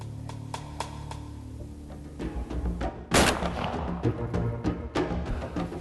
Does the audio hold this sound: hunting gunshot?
yes